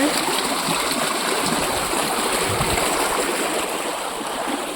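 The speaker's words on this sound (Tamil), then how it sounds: "தண்ணியை சத்தத்தை பாருங்க." Steady rushing of flowing water, loud and continuous like a nearby stream, with no voices.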